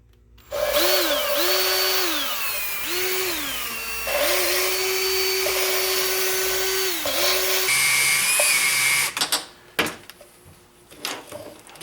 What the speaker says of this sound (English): we're going to hook my drill on there on low